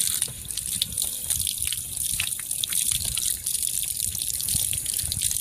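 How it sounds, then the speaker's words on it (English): Water gushes steadily from an outdoor hose spigot, rinsing loose iron filings away after a broken backflow preventer set screw was drilled out, a continuous close splashing rush with no talk. "Use some water to get all the little iron filings off."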